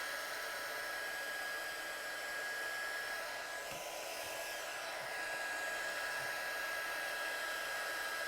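A heat tool blows hot air over wet watercolour on card, giving a continuous, fairly near whooshing drone that shifts slightly midway as the tool moves, then carries on steadily with no talking.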